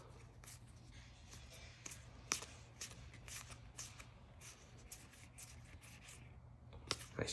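Donruss trading cards, numbered parallels from a 2023 hobby box, are flipped through one after another, giving a steady run of soft papery shuffles and slaps with a few sharper flicks over a low constant hum.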